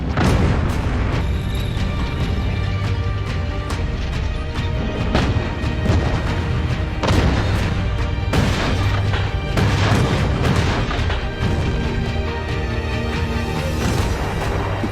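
Red Army T-34 tanks blow up enemy positions in a World War II battle: a dense, loud barrage of booms, crashes and thudding blasts follows one after another with no pause, under a rumbling low roar.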